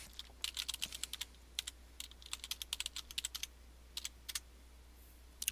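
Quiet, close bursts of rapid computer keyboard key clicks as a password is typed, irregular clusters with short pauses.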